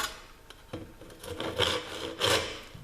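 A hand saw cutting a wooden piece for an upcycled box, long full-length strokes giving a rough rasping rub that swells on each push, close and alone with no talk.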